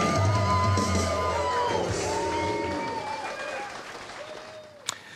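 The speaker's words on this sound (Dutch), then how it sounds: "Graag een oorverdovend applaus voor onze 12 provinciale kanjers." A political rally crowd applauds and cheers for twelve provincial candidates: loud, dense clapping with shouts and whoops, fading over several seconds, with one sharp bang near the end.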